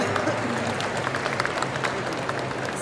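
An audience at a music video launch event claps steadily, a dense, even wash of applause throughout.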